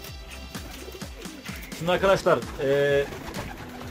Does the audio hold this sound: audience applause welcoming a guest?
no